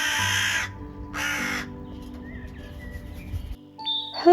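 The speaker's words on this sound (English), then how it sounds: "crow" A crow caws twice in loud, harsh, evenly spaced calls, followed by quieter bird chatter and a ringing ding near the end.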